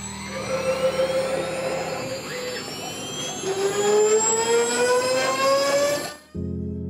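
A CNC router carves a 3D relief into a piece of oak, a loud steady whine with rising and falling tones as the spindle and cutter move through the wood, then cutting off abruptly near the end.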